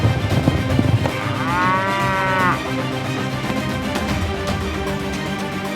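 A cow being roped on a ranch near mud lets out one long, loud, drawn-out moo over outdoor rumble and shuffling, with no talk.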